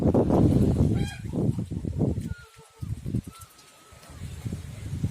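A young gosling honks on grass outdoors, a burst of close, nasal calls and chatter that thins out into quieter, scattered notes with rustling.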